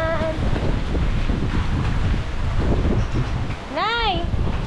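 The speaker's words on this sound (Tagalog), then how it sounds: "Basta hangin ah." Strong typhoon wind roars steadily and loudly across the microphone outdoors in the rain, a constant buffeting rush with a person calling out briefly near the end.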